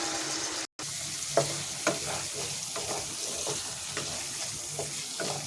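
Spices sauté in a pan with a splash of water, a steady close sizzle with occasional soft spoon scrapes and taps; no one speaks.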